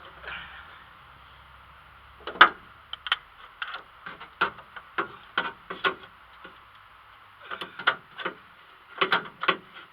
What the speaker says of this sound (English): we're going to take our oil filter spanner. Just take the oil filter off like that.